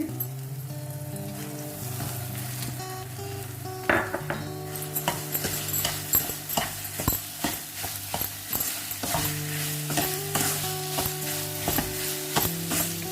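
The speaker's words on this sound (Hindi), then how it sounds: "इसे लगातार चलाते रहेंगे जब तक चीनी मेल्ट होगी।" A spoon keeps stirring sugar into a thick doda barfi mixture in a pan, making repeated metallic scrapes and clinks over a soft sizzle that grow busier and more rhythmic halfway through.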